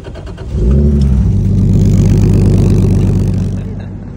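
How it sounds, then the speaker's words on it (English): A car engine with a new exhaust revs up hard with a deep, throaty exhaust roar, holds a loud rumble for a few seconds, then eases off. "Got the new exhaust."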